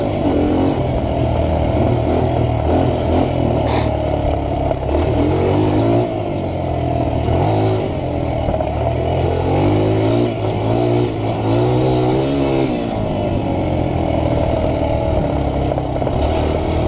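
A newly bought motorcycle under way, its engine droning steadily and close with rising and falling pitch as it accelerates and eases off, loud throughout with no talking.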